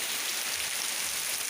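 Heavy rain pours steadily on a muddy roadside, a dense, continuous hiss of downpour close by with no voices.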